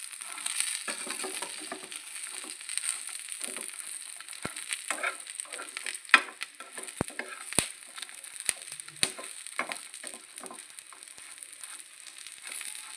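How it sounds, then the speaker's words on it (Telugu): Paneer fries in a pan, crackling faintly with a light sizzle, broken by occasional sharp ticks and scrapes from a spatula. "ఒక్కసారి ఫ్రై చేద్దాము."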